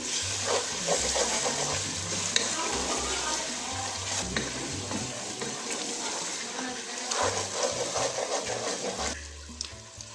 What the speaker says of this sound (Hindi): अब हम मसाले को भून लेंगे